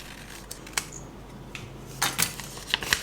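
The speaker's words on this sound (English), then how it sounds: "And we are going to cut the paper." Scissors snip through a paper circle template for a butterfly bow, giving a few crisp, close cuts early on, then a quicker cluster of louder snips and rustles toward the end in a quiet room.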